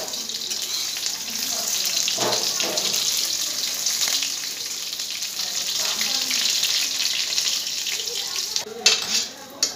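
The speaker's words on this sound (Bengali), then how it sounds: "সেই জন্য স্টিম কমিয়ে ভাজতে হয়।" Small fish fritters with ash gourd leaves frying in oil, a steady close hiss and sizzle running throughout, with a few brief clinks and stirring noises near the end.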